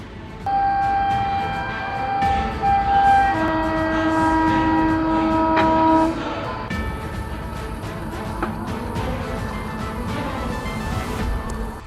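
A train horn sounds loudly in steady sustained tones for about six seconds as a train passes near a railway track, followed by the continuing rumble and rattle of rail cars going by.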